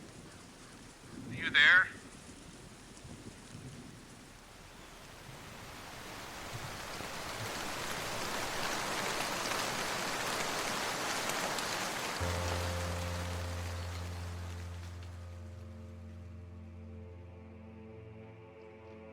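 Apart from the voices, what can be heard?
rain falling, audio drama sound effect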